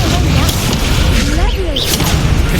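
An Incendio fire spell is cast during a Hogwarts Legacy duel, with booming blasts and whooshing bursts over continuous loud game noise while a voice speaks.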